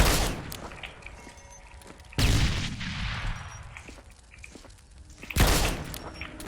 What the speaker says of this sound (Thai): โอ้ปาระเบิดมาอีกแล้ว